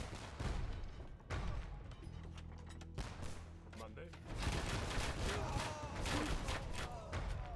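Hufnisse and bombard cannons fire in an Age of Empires II battle: rapid volleys of gunfire and booming cannon shots, dense and loud, with a brief lull midway, under overlapping commentator voices.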